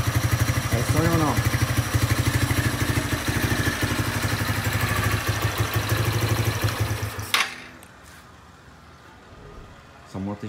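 A motorcycle engine idles with a steady, throbbing putter close by, then cuts off abruptly, leaving quiet with a faint clunk afterward.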